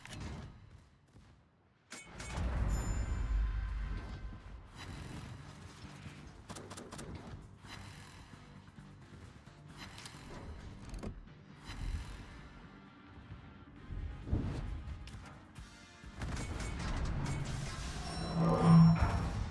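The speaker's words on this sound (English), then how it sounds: "Yeah, someone's got fireworks." Naval gunfire in a warship video game, heard as bursts of distant booms and cracks scattered irregularly through the stretch with quieter gaps between volleys, crackling like fireworks.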